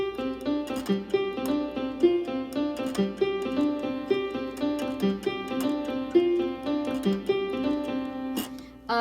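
A quick, busy piano run fills the space with bright repeated notes and chords, played alone at a brisk pace.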